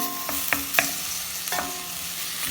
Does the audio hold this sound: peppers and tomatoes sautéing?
yes